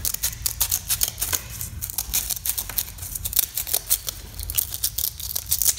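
Scissors snipping through sandpaper to make band files, a rapid series of sharp crisp cuts in quick irregular rhythm, close and fairly loud with no talking.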